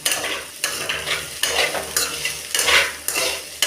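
Ginger-garlic paste with turmeric and chicken masala powder is stirred in a frying pan for a potato fry, a sizzle punctuated by about seven rhythmic scraping strokes of a utensil against the pan, close and clear, no talking.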